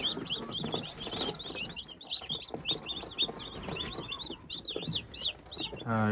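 Kuchin breed hens cluck and chirp continuously in a busy flock, with overlapping high calls repeating throughout, close by with some background rustle.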